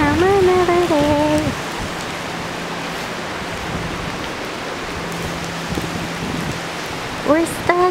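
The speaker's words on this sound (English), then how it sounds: "Hopefully the rain goes away." Steady rain falls outside a warehouse, a continuous broadband hiss holding evenly throughout, with a person humming or singing briefly at the start and again at the end over it.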